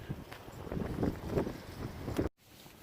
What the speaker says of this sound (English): I'm going to get out of this wind